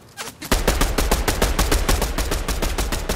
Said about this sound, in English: there's more shooting your way